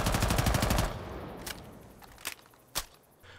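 Mozzie's Commando 9 in Rainbow Six Siege fires a loud, rapid full-auto burst for most of a second, then gives way to a few scattered sharp clicks and single reports.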